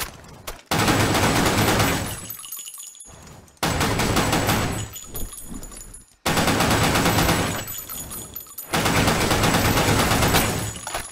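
Long automatic bursts from an HK416 rifle in the online shooter Blackshot, three or four sustained loud volleys separated by short pauses, close and dominant with no talk.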